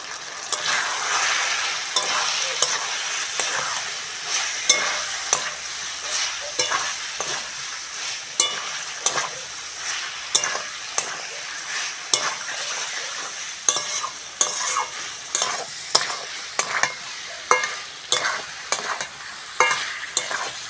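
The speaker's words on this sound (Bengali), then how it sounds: "পেঁয়াজের সঙ্গে আলুটা ভালো করে কষে নিয়েছি" Potatoes stir-fried with onion, turmeric and chili powder in a pan over a village cooking fire, a steady close sizzle broken by frequent scraping stirs of the spatula throughout, with no talking.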